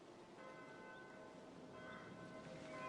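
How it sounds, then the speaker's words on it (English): A church bell rings the Angelus, a steady sustained metallic tolling with ringing overtones, fairly faint and distant, with no talk. "It's just a church bell, Martin."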